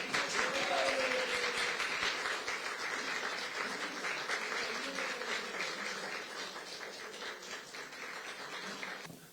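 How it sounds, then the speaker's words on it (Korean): Applause at a political party ceremony welcoming a lawmaker with a bouquet, a broad crowd clapping steadily for about nine seconds, strongest at the start and slowly thinning, with a brief voice faintly underneath early on. "큰 박수 부탁드립니다"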